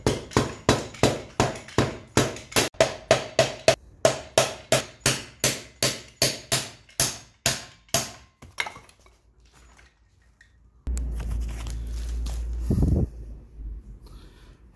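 A hammer striking a bent motorcycle axle shaft on a Yamaha R3 or MT-03 project bike, about two dozen loud, sharp metallic blows in a steady rhythm, then quiet, then a low, steady hum.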